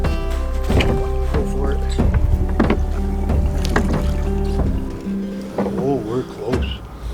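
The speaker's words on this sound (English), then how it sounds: "Tie off and I'll get to rowing." A small rowboat is rowed across the water to its new mooring, with repeated knocks and splashes of oars at a steady rhythm, close and fairly loud, while a voice speaks briefly.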